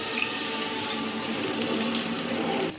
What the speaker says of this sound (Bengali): আমি অল্প পানি দিয়ে দেব